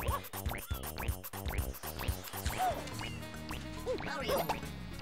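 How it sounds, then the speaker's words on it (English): Cartoonish quacking from Super Mario Sunshine, repeated nasal quacks and squishy liquid effects over bouncy game music, moderately loud and busy. "We're out of juice. We're quacking."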